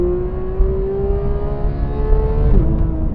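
A 2014 Porsche GT3 with a muffler-delete exhaust holds a loud, steady, high-revving engine tone close by. Near the end the pitch drops sharply and then settles again.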